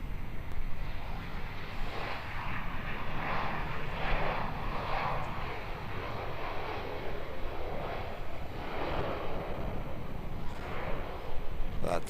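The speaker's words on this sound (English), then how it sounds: "That's Virgin Australia in from Perth." A Virgin Australia airliner arriving at Melbourne Airport from Perth produces a steady, broad jet roar that swells and fades in long waves at a distance under constant outdoor rumble.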